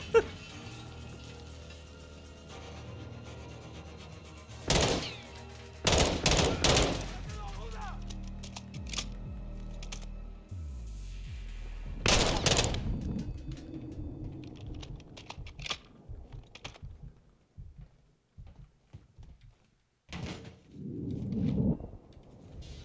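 Bursts of gunfire in Call of Duty: Modern Warfare 2, with loud shots clustered in a few sharp volleys, keyboard tapping and talking in between.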